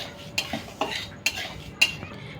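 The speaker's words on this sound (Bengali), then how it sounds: "সুজিটা প্রায় চিনির সঙ্গে অনেকটা পাক হয়ে যাচ্ছে, এইভাবে আরও কিছুক্ষণ ভেজে নিতে হবে।" A spoon scrapes and clinks in a pan as semolina and sugar fry together over a medium-low flame in a village kitchen: four sharp strokes spaced roughly half a second apart, close and moderately loud, with no voices.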